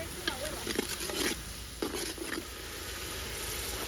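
Chopped garlic sizzles in a hot pan while a spoon scrapes and stirs it in a few short bursts, with a steady frying hiss continuing underneath, close and moderately loud in a home kitchen.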